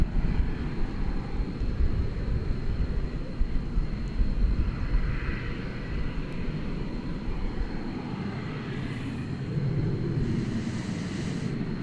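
A Spirit Airlines airliner in birthday cake livery passes at DFW Airport, its engines a steady broad jet roar with low rumble that holds throughout and eases slightly near the end, with no talk.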